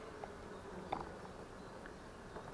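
Swarm of honey bees just caught and being moved into a hive, a faint continuous hum of many bees with no voices.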